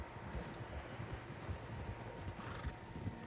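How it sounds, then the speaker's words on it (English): Several horses move across open country in the Red Dead Redemption 2 video game, their hooves clopping softly under light wind with a faint whinny, quiet and distant, for a few seconds. "Horses, quite a few of them."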